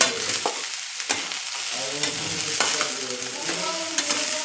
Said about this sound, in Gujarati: ગરમ ઘીમાં કટકા એડ કરવાના છે।